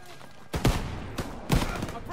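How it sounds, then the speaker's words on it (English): Heavy gunfire from Call of Duty WW2, a World War II shooter, in loud bursts near 0.5 and 1.5 seconds over constant battle noise, with voices shouting amid the firing. "Keep firing!"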